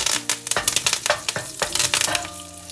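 Mustard seeds, cumin seeds and curry leaves hit hot oil with a loud crackling sizzle, sharp popping bursts and the scrape of stirring, close up with no talking.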